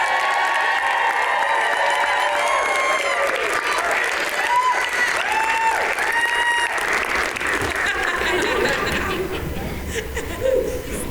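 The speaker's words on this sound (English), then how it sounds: "How about one more ruckus round of applause for our 4 under 40 finalists." Loud audience applause at an annual 4 Under 40 awards event for the finalists, a dense wash of clapping with cheers, whoops and some laughter mixed in, fading a little toward the end.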